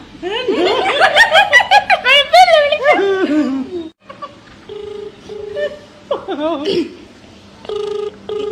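Someone snickers and laughs up close, then an outgoing phone call rings back with a repeating pattern of steady electronic tones and a little more chuckling between the rings.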